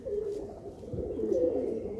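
A Madrasi pigeon coos steadily and softly, a low, continuous murmur close by with no talking over it.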